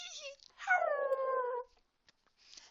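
A single drawn-out howl, used as a sound effect during a children's bedtime picture-book reading, rises and then slides downward for about a second. It is fairly loud and close, with brief quiet gaps around it.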